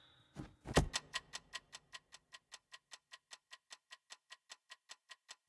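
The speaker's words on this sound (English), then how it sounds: "how the ticking sound effects work in my game, Boom You Win" A looping bomb timer from the video game Boom You Win opens with a couple of louder clicks, then ticks in a steady, even rhythm that gradually fades to quiet, regular ticks.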